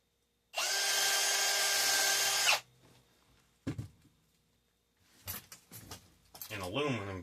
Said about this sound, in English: I'm going to drill a hole first before I cut it off.